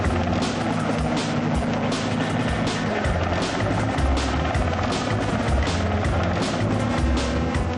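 Mi-24 military helicopters of an aerobatic display team fly complex maneuvers in a six-ship formation, producing a loud, continuous rotor and turbine roar with a steady rhythmic chop throughout.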